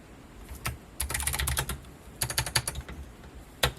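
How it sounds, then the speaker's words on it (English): Typing on a custom Lego keyboard built from a kit, with bursts of sharp, close clacking keystrokes in quick irregular runs separated by short pauses, no talking. "do a quick typing test."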